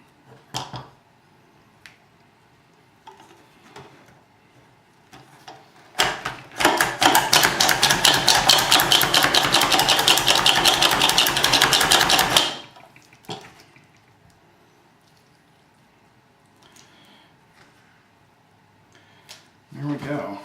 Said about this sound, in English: I'm done chopping.